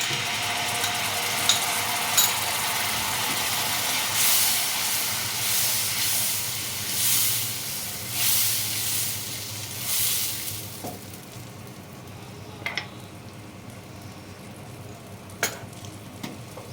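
Sour yogurt mixed with sugar goes into a pan of fried spices for an okra curry, raising a hissing sizzle that swells for several seconds, then dies down to a quiet simmer with a few light clinks.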